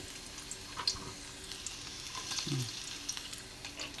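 Garlic frying in a hot pan for breakfast, a soft steady sizzle with occasional stirring clinks and scrapes close by.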